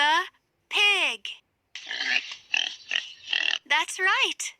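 A pig oinks and grunts in a few short bursts in the middle of an animal-sounds game, framed by a person speaking before and after.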